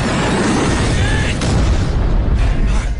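A deep, roaring explosion from an action film, with a dense rumbling blast and crackling fire filling the whole stretch at high loudness.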